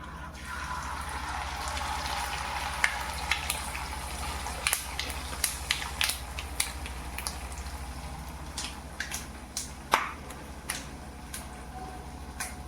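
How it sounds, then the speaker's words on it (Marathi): Bhagar flour vadas coated with sesame frying in hot oil, a continuous bubbling hiss broken by scattered sharp pops and crackles, close and moderately quiet. "आता मी तेलात टाकते तेल हा गरम करायला ठेवलं आहे"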